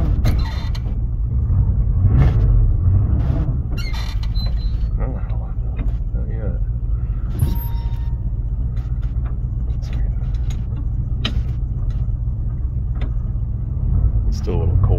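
A 1981 Chevy K30 squarebody truck with a 350 engine idles on a snowy winter cold start, a steady low rumble throughout with some creaks and clunks over it, and a person speaking now and then.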